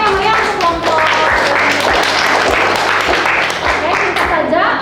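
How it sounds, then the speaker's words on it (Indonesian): Classroom applause after a group presentation during a university teaching practicum, lively clapping with some distinct rhythmic claps over a steady patter, with voices heard underneath. "berikan tepuk tangan yang meriah"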